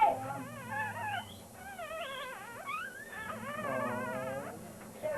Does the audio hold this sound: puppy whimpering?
yes